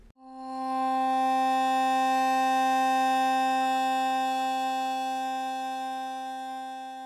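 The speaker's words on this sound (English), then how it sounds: "if I change the filter to, let's say, Distortion" A sustained synthesized tone run through a distortion filter, with a buzzy, harmonically rich edge, swells in and holds steadily for several seconds, slowly fading, with no other sounds.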